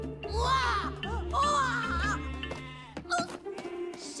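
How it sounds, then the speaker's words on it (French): A sheep bleats repeatedly in a wavering, nasal voice in a cartoon farm setting, several close bleats one after another with a clattery noise near the end. "Je savais pas qu'on élevait aussi des moutons ici"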